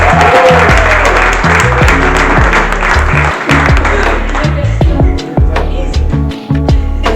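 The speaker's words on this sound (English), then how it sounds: "Let's clap it up." Audience applause greeting a comedian taking the stage at a comedy show, loud and sustained throughout, with a steady pulsing low hum and music-like beats running beneath the clapping.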